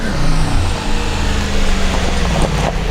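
An AMG car approaches with a loud, rumbling engine note that swells and shifts as it draws near, set against heavy low drone and wind.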